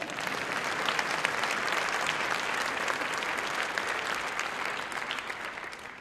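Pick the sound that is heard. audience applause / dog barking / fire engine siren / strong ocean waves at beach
audience applause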